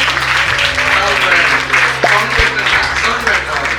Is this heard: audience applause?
yes